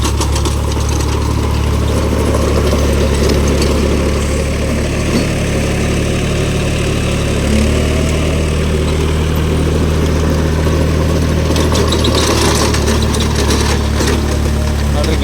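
A tractor with a rotary tiller works through a plantation, its engine a loud, steady, close drone with a low throb that continues without a break.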